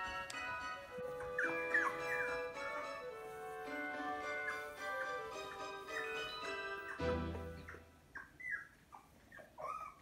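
Young puppies from a litter resting on a doggy bed, giving faint, high whimpers and whines that rise and fall across the stretch, close but quiet.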